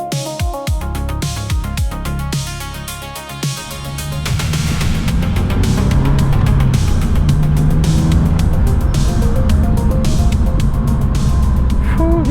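A 2002 Porsche 996 with a 4.0L engine being driven, its engine note rising from a lighter drone to a louder, steady roar that holds close for the rest of the stretch, with no talk.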